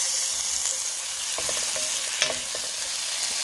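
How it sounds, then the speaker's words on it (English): Sliced onions sizzling in a pat of butter in a pan, a steady close hiss of frying with a few soft scrapes and stirring taps, no one talking. "I'm gonna add a pat of butter to the pan."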